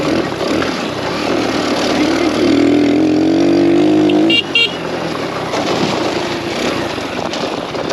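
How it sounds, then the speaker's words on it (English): A Suzuki LTZ400 ATV engine drones loudly and close, its pitch sliding down during a downshift before a sharp cut and return to steady running. "Careful downshifting there"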